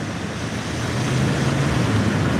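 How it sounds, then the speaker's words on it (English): Steady ocean waves and breeze at sea during kayak fishing, a continuous broad wash of noise with a low rumble that swells slightly, no talking. "it's like between the breeze, the waves and the sound"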